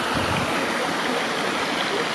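Water rushing over rocky river rapids on Phu Quoc island in the dry season, a steady, close, broadband roar with no pauses.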